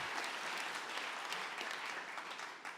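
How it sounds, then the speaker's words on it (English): A church audience claps their hands together, a dense burst of applause from a crowd that holds steady for a few seconds before easing off. "Come on, clap your hands"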